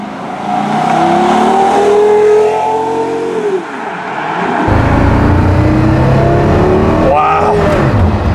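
A Porsche Carrera GT engine pulls up through the revs at light, quarter throttle in a loud, close rising tone that drops off, then surges again, with people talking over it.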